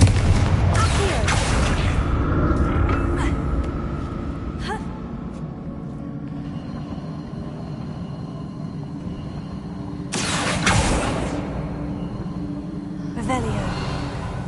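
Confringo blasting spell going off in Hogwarts Legacy, a booming explosion with rumbling game effects and several further bursts across the stretch, loud and close, with a voice speaking over parts of it.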